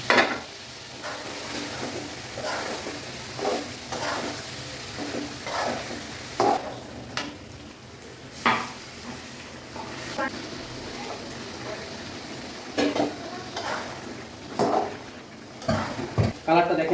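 Marinated duck meat cooks in a pan on the stove, sizzling steadily while a utensil scrapes and clatters against the pan in repeated strokes, with occasional faint speech.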